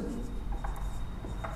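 Quiet, continuous scratching of a pen or marker writing numbers during a maths class, a close, dry rubbing with small bursts of strokes and no speech.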